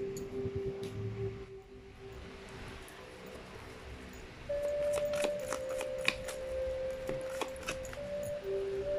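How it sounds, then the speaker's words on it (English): Tarot cards shuffled during a pick-a-card reading, with a continuous close riffling and sliding of the deck over soft background music. "let's try to pull up more cards"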